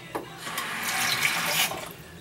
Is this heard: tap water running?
yes